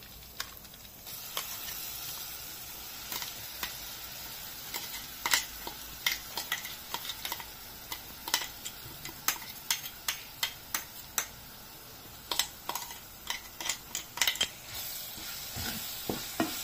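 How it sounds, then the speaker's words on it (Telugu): Chilli chutney added to a hot tempering and frying, a soft steady sizzle under repeated sharp ticks and taps of a spoon against the pan, close and quiet with no voices. "పచ్చడిని పోపులో వేసి ఒక 5 మినిట్స్ ఎనఫ్."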